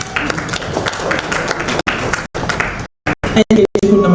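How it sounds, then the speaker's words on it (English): Conference audience at a tech event breaking into applause, a dense crowd clapping that swells, then thins into a few scattered claps with some voices mixed in. "And we appreciate him with an applause."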